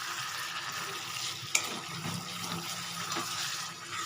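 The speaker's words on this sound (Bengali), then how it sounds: "আমি এখন আরও 3-4 মিনিট এইভাবে কষিয়ে নেব।" Chicken korma cooked down in a pan, a low continuous sizzle with watery bubbling, one sharp utensil clink and occasional soft stirring scrapes.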